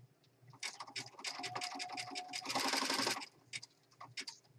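A sewing machine stitches through paper and fabric for a nature journal. Quick, close mechanical chatter comes in bursts and swells into a dense stretch before it stops, followed by a few scattered clicks.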